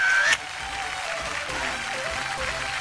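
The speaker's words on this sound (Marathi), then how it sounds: "ही खुर्ची तुमची एकदा जोरदार टाळ्या होऊन जाऊ देत." A studio audience breaks into loud applause on a Marathi television show, with a brief tonal sound at the start, then a steady, dense clapping that carries on throughout.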